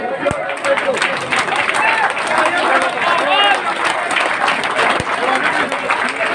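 Crowd clapping at a political rally in Ramgarh, Rajasthan, continuous dense applause from many people with loud murmuring and voices mixed in throughout.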